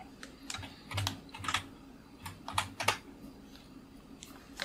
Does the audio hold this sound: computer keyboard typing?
yes